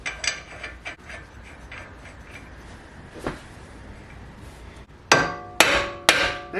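Metal hammer blows strike a Ford Fiesta's suspension knuckle and ball-joint bolt. A few scattered knocks come first, then three loud, ringing strikes land close together near the end.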